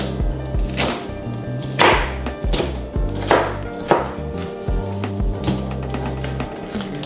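A slightly dull knife dices vegetables on a cutting board in a home kitchen, giving a run of sharp, uneven chops at close range over faint background music.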